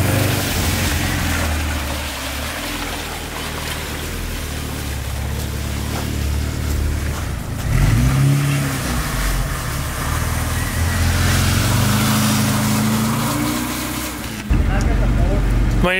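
A Lada on ten-year-old summer tires labours through slush, its engine droning loudly and rising in pitch through a couple of revving surges as it struggles for grip, with people talking over it.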